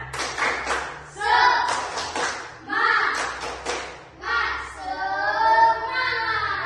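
Schoolchildren do the 'tepuk semangat' spirit clap together, with patterned bursts of clapping interleaved with chanted voices in a classroom, near and moderately loud.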